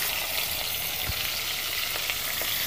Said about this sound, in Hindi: मछली डाल के अच्छे से हम तेल में फ्राई करेंगे मछली।